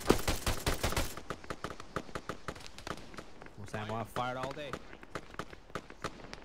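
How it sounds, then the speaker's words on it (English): Rapid bursts of heavy and medium machine gun fire in the military shooter Arma 3, sharp repeated cracks spread across the clip, with a radio-style voice talking over them in the middle. "Most ammo I've fired all day."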